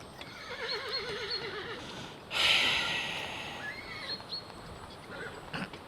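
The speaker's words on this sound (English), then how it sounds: "That was a nicely timed horse snort." A horse whinnies in a wavering, rising and falling call, then gives a sharp, loud snort that trails into breathy rumbling, with a few fainter neighs after it against soft outdoor ambience.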